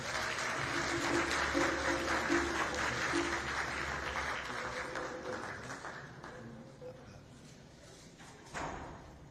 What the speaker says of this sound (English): So if you can please give them a round of applause as they come to the stage.